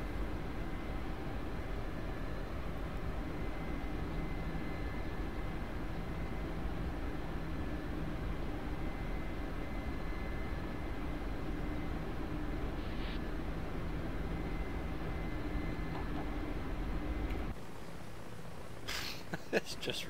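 A steady low rotor drone of a helicopter in DCS World, carrying swinging slung logs, rumbles continuously, broken by a few brief clicks near the end.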